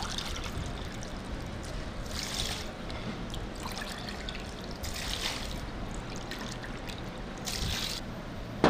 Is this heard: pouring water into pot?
yes